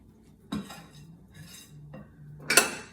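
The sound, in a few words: stirring banana bread batter in a bowl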